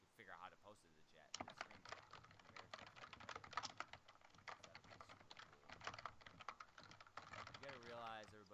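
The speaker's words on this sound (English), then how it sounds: "but I can hear my typing" Computer keyboard typing during a live podcast call, a quick irregular patter of keystrokes running steadily throughout, fairly faint, with faint voices in the background at times.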